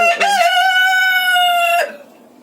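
A farmyard chicken gives a single loud, drawn-out tonal call, close by, ending abruptly with no voices over it.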